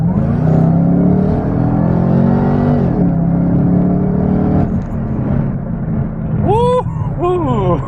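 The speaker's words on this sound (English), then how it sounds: "let's go ahead and floor it from 35," 2013 Chevrolet Camaro ZL1 at full throttle from 35 mph, engine note climbing hard through rising pitch with a quick upshift, loud and close, ending in sharp squealing sweeps.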